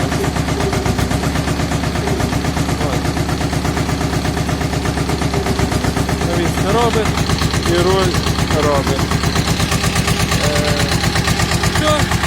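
A Chinese tractor engine runs loud and close with a rapid, rough diesel chatter, rising as it is revved partway through, while someone speaks briefly over it.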